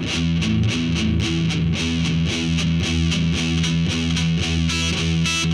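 A distorted electric guitar plays a heavy metal string-skipping picking exercise, with rapid, even alternate-picked notes jumping between strings. The tone is loud, saturated and continuous, with no talk.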